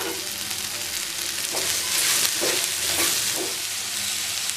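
About a quarter kilo of okra, sliced into rounds, frying in hot oil in a pan makes a loud, continuous, close sizzle, with a few soft stirring scrapes in the middle and no voices.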